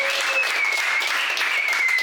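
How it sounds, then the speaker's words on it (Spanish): An audience at a Spanish-language rap battle claps in a dense, continuous burst of applause for about two seconds, close and fairly loud, with a faint whistle running over it. "Aplauso para Sí, Luco."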